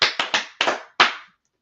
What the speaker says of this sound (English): Let's clap it up for those questions and answers